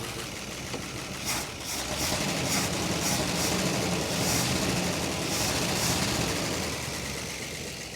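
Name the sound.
1966 Crown Imperial Mopar big block engine idling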